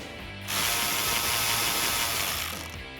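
Rapid ratcheting from a hand ratchet backing out the hood latch bolts on a 2019-2022 Chevrolet Silverado or GMC Sierra 1500, a dense continuous clicking that starts abruptly and runs steadily for a few seconds, close and alone.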